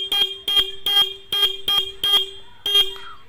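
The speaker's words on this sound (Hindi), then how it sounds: "जब मैं हॉर्न अब बजाता हूँ तो अच्छे तरीके से बजने लगी है" A Hero motorcycle horn honks six times in a steady rhythm, each beep short, loud and close, with brief gaps between.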